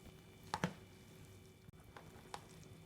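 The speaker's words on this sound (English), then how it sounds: "Pour the vinegar onto the rice and mix in cutting motion like this, lifting up the rice from the bottom" Vinegared sushi rice being mixed with a cutting motion, giving a few soft, quiet squishy taps and scrapes, two close together early and then scattered lighter ones.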